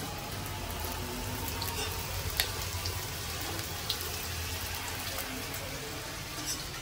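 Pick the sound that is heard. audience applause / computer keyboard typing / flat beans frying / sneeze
flat beans frying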